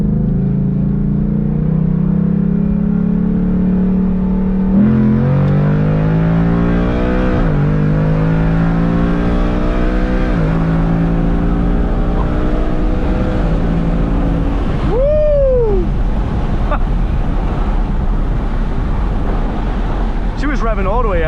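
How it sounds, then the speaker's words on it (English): A tuned Ford Mustang with a Lund Racing tune does a 40 mph roll pull, its engine droning loudly from the cabin as revs climb in steady sweeps through several gear shifts. Brief talk sits underneath. "first pull with the Lund tune. Try a 40 roll."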